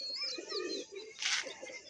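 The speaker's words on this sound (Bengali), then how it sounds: "দেখতে পাচ্ছি বন্ধুরা পায়রা নেমে পড়ছে" Pigeons coo softly up close as they settle, with brief rustling and a burst of wing flaps midway through the short stretch of calls.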